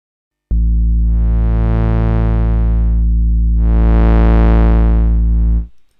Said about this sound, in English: The harmonics adds even or odd harmonics to the sine wave.